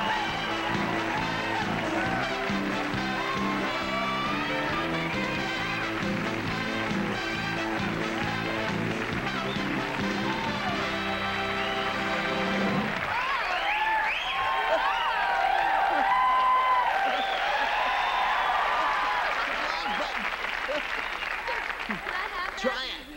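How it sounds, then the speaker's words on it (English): A late-night TV studio audience, on The Late Show in 1987, bursts into sustained loud applause and cheering as a guest is welcomed, the clapping running under a band playing at first, then continuing over steady crowd noise. "Please give me a very warm round of welcoming applause to Miss Suzanne"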